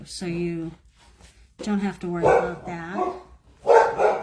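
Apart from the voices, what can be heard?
dog barking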